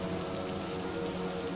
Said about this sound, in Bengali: রঙের বৃষ্টি শুরু হয়।